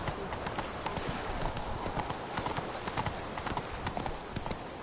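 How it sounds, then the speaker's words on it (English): In the video game The Witcher 3, a horse's hooves clip-clop in a rapid, steady gallop rhythm, loud and close over a busy ambient background. "Not so fast, Roach."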